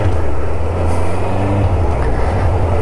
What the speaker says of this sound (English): We're on the Honda CBF600.